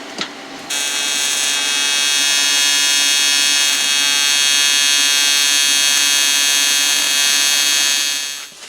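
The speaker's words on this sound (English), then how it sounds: "I welded that tab on the bottom of the intercooler before I had a plan" A welder runs in one continuous bead as a tab is welded onto the bottom of an intercooler on a Foxbody, giving a loud, steady, high buzzing hiss for about eight seconds that starts abruptly and tapers off at the end.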